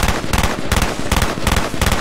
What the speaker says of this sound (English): this unbelievable three-round hyperburst, which I think Black Ops does a reasonable job of replicating